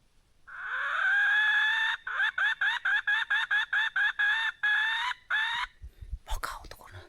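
A wild junglefowl crows in the forest, one loud, clear, drawn-out call followed by a rapid run of short, stuttering crow notes, then brief rustling noise at the end.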